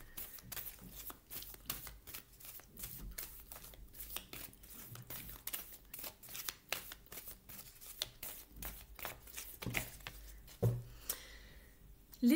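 Oracle cards shuffled by hand in a quiet room, a rapid series of crisp riffling flicks and papery slaps repeating in short bursts, close and fairly soft.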